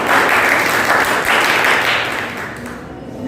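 Students at a school road safety quiz competition clap loudly and densely together, the applause holding strong before tapering off toward the end.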